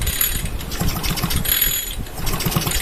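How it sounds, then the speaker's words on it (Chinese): Recoil starter rope on a new Mitsubishi KT-430 brush cutter engine, spark plug removed, pulled repeatedly by hand: a series of close mechanical ratcheting whirs and clicks from the turning engine, with no voices. "接着我会拉动这个拉绳盘"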